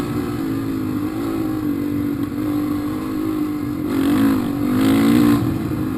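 A dirt bike engine drones at a steady pitch on dirt trails, then revs up louder around four to five seconds before easing off, with no voices over it.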